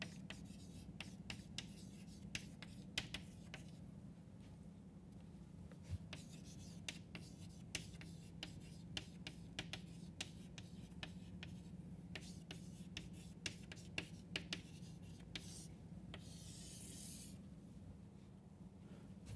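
Mathematical statements on continuity of real functions written out by hand, producing steady scratching and tapping strokes in irregular bursts, close and distinct over a constant low hum.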